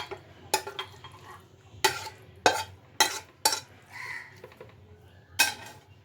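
Cooked pui metuli, a Malabar spinach dish finished with raw mustard oil, scooped from a pan with a spoon, giving several sharp metallic clinks and scrapes spaced apart over a faint background hum.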